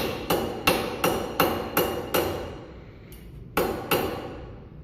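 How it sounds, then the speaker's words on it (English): Band iron pieces being hammered on a metal workbench: seven sharp, ringing blows in an uneven rhythm, close and loud, each strike decaying with a metallic ring, with a brief pause before the last two. "I'm gonna whack down the pieces real quick"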